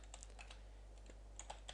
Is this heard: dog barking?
no